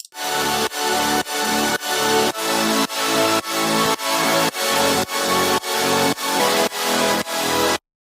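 A loud electronic drop with thick sustained chords pumping in a steady sidechained rhythm, each beat swelling and ducking, then cutting off abruptly at the end.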